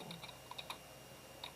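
Keys clatter on a computer keyboard in a short burst of light, irregular taps, close and fairly quiet, with no voices.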